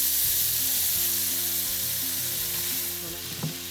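Wild caught Argentina shrimp frying in a very hot pan, a loud, dense hiss of sizzling oil close by, easing slightly toward the end with a faint clink.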